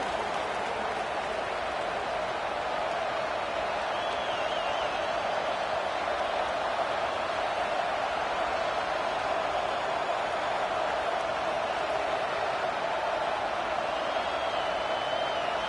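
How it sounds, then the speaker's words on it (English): A stadium crowd cheers at a Longhorns college football game in a video game, a steady, distant roar of massed voices that stays even throughout. "This crowd ready to make its presence known."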